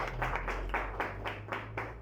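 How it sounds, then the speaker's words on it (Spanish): A church congregation at a Spanish-language service claps together in steady, rhythmic bursts, moderately loud and without voices over it. "¿Cuántos le dan un aplauso al Señor?"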